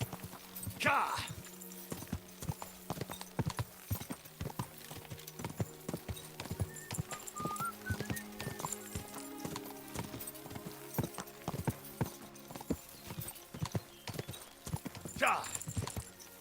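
Horse hooves clip-clop steadily at a walking pace while riding in the medieval video game Kingdom Come: Deliverance II, with neighs near the start and end and in-game voices talking throughout.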